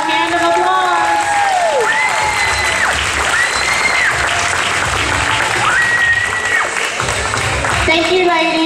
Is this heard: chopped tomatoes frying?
no